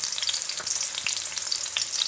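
A piece of ginger sizzling in hot oil in a pan while making pomfret fish rasa, a steady crackling fry with scattered sharp pops and a faint stirring scrape.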